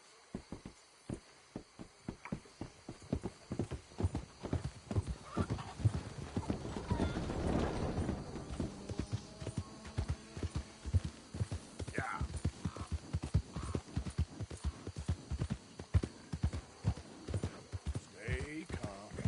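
Rhythmic clip-clop of horse hooves at a steady walk in the video game Red Dead Redemption 2, close by, with a horse whinnying partway through and voices talking over it.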